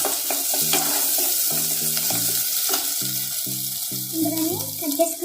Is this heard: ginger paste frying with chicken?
yes